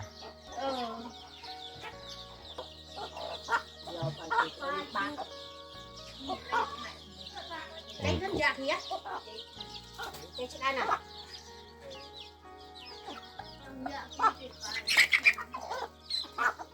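Chickens cluck near a rural house, with repeated close clucks and squawks in irregular bursts, a flutter of wings, and people talking in the background.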